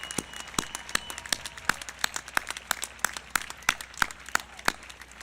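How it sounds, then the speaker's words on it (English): A high school graduation audience gives a round of applause, with a sparse scattering of distinct, fairly near claps in an uneven rhythm over a low background of crowd noise. "Let's all give them a big round of applause"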